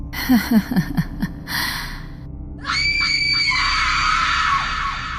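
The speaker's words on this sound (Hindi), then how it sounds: "इस बार वो बहुत जोरों से चिल्लाई, जिससे कि स्मिथ जाग उठा" A woman gasps in short panicked bursts, then lets out a long, loud, piercing scream that holds and wavers before fading.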